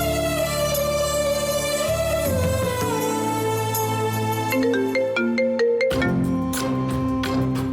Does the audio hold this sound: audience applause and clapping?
no